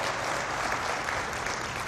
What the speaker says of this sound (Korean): 우리 강 대표 자리를 좀 박수 한번 쳐주세요